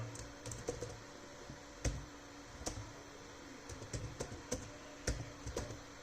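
Faint, close typing on a computer keyboard: irregular clusters of light key clicks with a few heavier taps, under a low background hum.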